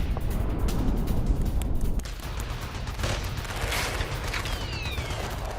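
An explosive strike on a Hamas fighter who stepped out of a bunker carrying an RPG, in combat news footage: a loud, dense burst of blasts and crackling fire that settles into a rolling, rumbling roar.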